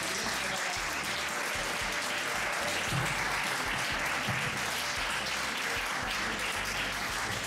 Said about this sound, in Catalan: un aplaudiment encara que no sigui